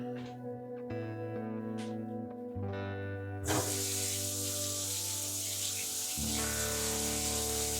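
A loud, close hiss of an aerosol texture spray can running empty bursts in and keeps sputtering, harsh and uneven, over a low background hum.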